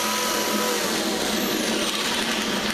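Electric double-cut shears cut along the edge of sheet metal with a loud, continuous motor whir and steady grinding buzz up close, unbroken throughout with no talk.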